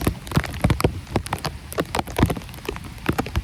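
Rain from Hurricane Milton patters close by in dense, irregular drops striking a surface, a steady busy tapping with no voices over it.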